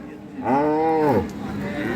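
A calf at a village cattle market selling improved-breed dairy cows moos once in a long, loud, drawn-out call. The call rises and then falls away, over a low murmur of market noise.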